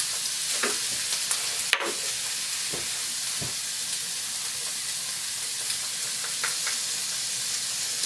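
A spoon stirs garlic and miso into eggplant frying in a pan for Japanese mabo nasu, a continuous sizzle and hiss with a few soft scraping strokes and one sharp clack near the start.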